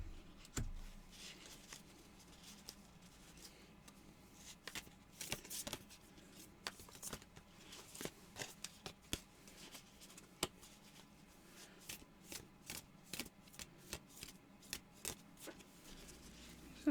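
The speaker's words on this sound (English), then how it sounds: "We're using this deck. I'm just shuffling a little bit." A large deck of cards being shuffled by hand for a reading, giving irregular soft riffles and flicks that come in quick clusters, fairly quiet and close, with no talking.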